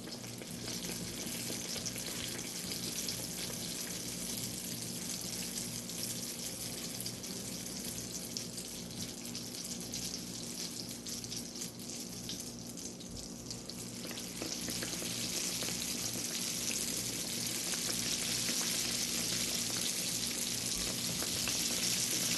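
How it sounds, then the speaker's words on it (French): Fricassés, the small dough buns, fry in heated oil with a continuous soft sizzle that swells a little louder toward the end, close by and with no talking. "Après avoir chauffé notre huile, maintenant on va commencer à cuire nos fricassés."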